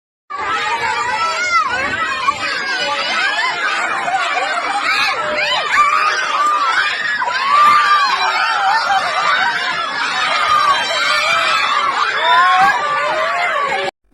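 A crowd of villagers shouting in protest against a sand quarry, a dense, continuous babble of many raised voices and chatter, loud and close throughout.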